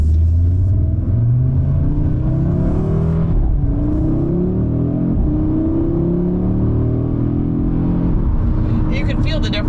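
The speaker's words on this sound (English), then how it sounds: "Even just accelerating, you can feel that it's moving all the torque to the rear of the vehicle." A 2022 Audi RS3 accelerating in its rear-torque drift mode, engine note climbing in repeated upward sweeps through gear changes with a deep rumble, heard from inside the car, loud and continuous.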